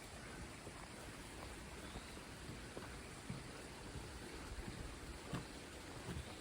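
Mosca Creek flows steadily along a nature trail near the dunes, a faint, even wash of running water with no distinct splashes and no voices.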